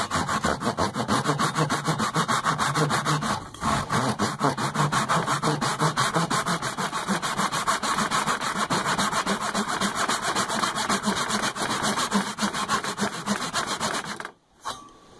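A Japanese pull saw cuts into wood for a dovetail joint, a rapid steady rasping of stroke after stroke heard close and loud for about fourteen seconds before stopping.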